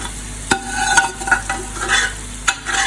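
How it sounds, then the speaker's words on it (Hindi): Beef hits a hot karahi with fried chilli flakes and is stirred, a loud close sizzle broken by sharp metal scrapes and knocks of the spoon at irregular intervals. "जो हमारा गोश्त था वो हम इसमें ऐड करते हैं।"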